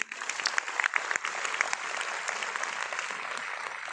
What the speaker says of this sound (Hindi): अगर विश्वास हो रहा है तो जबरदस्त ताली बजाइए